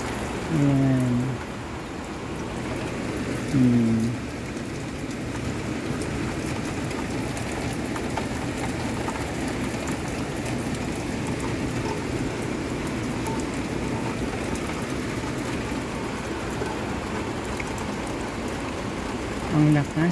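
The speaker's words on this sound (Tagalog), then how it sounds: "Ang lakas ng ulan mga kapamilya." Heavy rain pouring steadily on a city street outside office windows, a dense constant hiss with a few brief vehicle-like tones and faint background sounds.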